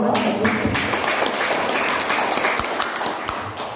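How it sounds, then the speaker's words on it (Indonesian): An audience claps steadily through a gathering of prospective teacher leaders (calon guru penggerak, cohort 9) presenting positive school culture work; the dense clapping stays fairly loud and even throughout. "Tepuk tangan untuk kita semua."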